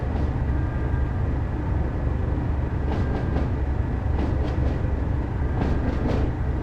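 Class 37 diesel locomotive in Train Sim World on the West Somerset Railway, running at a steady pace: a continuous low engine drone with a steady hum, overlaid by occasional brief rail clicks and hisses, with no talk.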